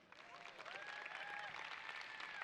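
Audience applause at a STEM Excellence Awards ceremony, a steady moderate clapping crowd heard from a distance, with a few whistles or cheers rising above it.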